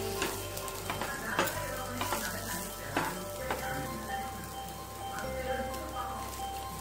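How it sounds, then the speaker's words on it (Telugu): Onions and curry leaves fry in oil with garam masala, a steady sizzle broken by scraping strokes of a spoon stirring the pan, close and continuous. "గరం మసాలా వేసిన తర్వాత ఈ మొత్తం బాగా కలిపేసుకుందాం."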